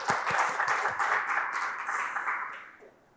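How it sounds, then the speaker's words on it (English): Applause from a conference audience at an IEEE Vis 2022 talk on climate modeling data analysis, a moderate crowd clapping with individual sharp claps standing out, then tapering off and fading near the end. "a big round of applause for all my collaborators who couldn't be here"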